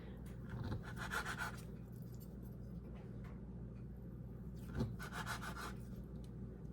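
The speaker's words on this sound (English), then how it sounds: "I'm slicing my corn mush that I made." A knife slicing through a pan of homemade cornmeal mush gives soft, close rubbing and scraping strokes, quiet and repeated, with a faint hum in the background.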